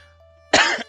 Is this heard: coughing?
yes